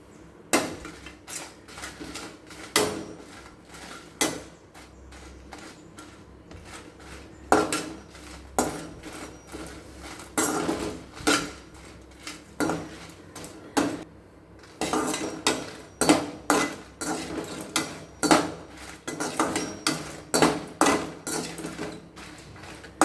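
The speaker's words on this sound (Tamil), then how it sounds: "எண்ணெய் இல்லாமல் வறுக்கணும் ஒவ்வொரு பொருளையாக வறுத்து அதை பொடி பண்ணிக்கிடணும்" Spices dry roasted without oil in a metal kadai over medium heat, heard as repeated sharp scrapes and clanks of a spatula against the pan in irregular bursts, close and fairly loud with quiet gaps between.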